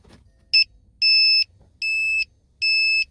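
Trailer socket tester on a Citroen C4 Picasso, wired to the car's indicator, emits four clean electronic beeps in a steady rhythm, a short one followed by three longer tones, close and alone with no talk.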